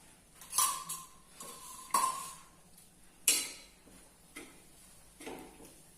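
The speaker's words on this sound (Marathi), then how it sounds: "यानंतर आपण एक 2 चमचे बेसन भाजून घेणार आहोत, ते मंद आचेवरतीच। त्यामध्ये तेल ऍड करणार आहोत।" Two spoonfuls of gram flour (besan) roast in oil over a low flame in a pan while a spoon stirs it, giving a few soft scraping clinks and taps spaced through a quiet background with no talk.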